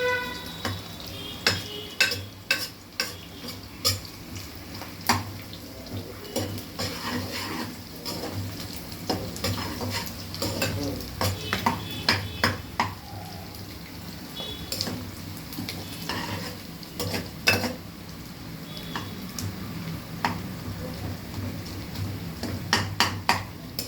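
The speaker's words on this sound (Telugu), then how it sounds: "కొంచెం ఉల్లిపాయలు వేగిన తర్వాత అల్లం వెల్లుల్లి పేస్ట్ వేస్తాం." Onions frying in a pan while being stirred, a low steady sizzle under many sharp spoon taps and scrapes against the metal, close and fairly constant throughout.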